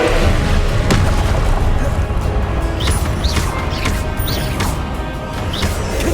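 In the Hogwarts Legacy video game, the Confringo fire spell explodes in a loud boom and crash that fades into rumbling debris, with a character's voice and other game sounds around it.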